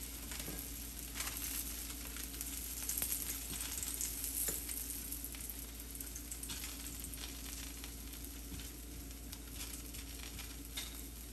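A mango and carrot paratha frying in oil on a tawa gives a soft, steady sizzle with scattered crackles over a low hum, fairly quiet and without talk.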